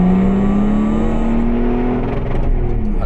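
A modified BMW 535d Touring diesel estate with an M5 steering rack accelerates hard at the Nürburgring, engine droning loudly with a steadily rising pitch before a brief dip as it shifts, heard from inside.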